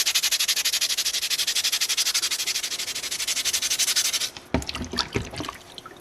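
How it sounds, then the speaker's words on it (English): Rhythmic strokes of sandpaper lightly rubbing a small soapstone wolf carving, a fast, even scratching close by for about four seconds, then a few softer, scattered rubs. "if I just sand that lightly, you can really kind of see that striping pattern sticking out"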